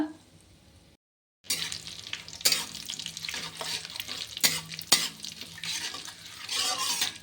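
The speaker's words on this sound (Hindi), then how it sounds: "तो सारा खड़ा मसाला चटक गया है" Whole spices such as cumin, cardamom, red chilli, bay leaf, black pepper and cinnamon crackle and fry in hot oil in a kadai, a dense sizzling hiss with sharp spatters and stirring clatter after a brief silence.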